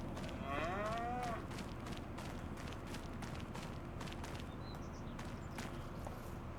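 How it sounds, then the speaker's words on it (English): Cows on an oak bridge farm in the Farming Simulator 25 video game give one clear moo near the start, followed by faint livestock shuffling and light hoof-like clicks over a quiet low background. "Besides that, cows are doing okay."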